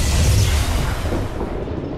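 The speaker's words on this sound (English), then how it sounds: "Now we could throw a grenade that would hit two people" Grenade blast in XCOM 2: War of the Chosen, a loud low boom at the start that rumbles and slowly fades over two seconds, with no voices.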